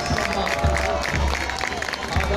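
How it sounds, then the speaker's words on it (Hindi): Crowd applause for soldiers at the Republic Day parade on Rajpath, a steady outdoor wash of clapping and cheering mixed with crowd murmur, under a loud, booming public-address announcement and speech. "सैनिकों के लिए जोरदार तालियां।"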